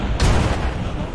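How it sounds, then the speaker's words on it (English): Heavy artillery fire in the military video game Arma 3, set in a Vietnam scenario: a single loud boom lands early, then a dense rumbling roar carries on with no voices. "We are under heavy artillery fire."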